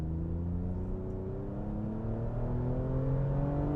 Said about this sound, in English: I was hoping you could hear the exhaust note